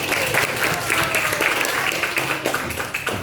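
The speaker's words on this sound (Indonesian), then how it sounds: "Give applause for Zaki." A class gives a round of applause for a child, Zaki, in a school lesson about sack races: dense, steady clapping from many hands, fairly loud and continuous throughout.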